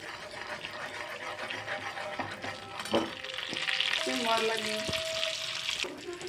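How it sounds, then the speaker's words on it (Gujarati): Butter, about two tablespoons, melts and sizzles in a pan for Mumbai-style pav bhaji, a close steady fry hiss with scraping stirs and a short metallic ring, no voices. "બટરને હું થોડીક વાર પીગળવા દઈશ।"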